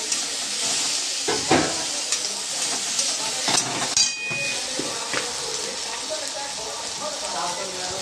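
Chopped tomato lands in a pan of fried onions and sizzles with a soft, steady hiss, broken by scraping and clicking strokes of a stirring spoon, fairly close and moderately quiet.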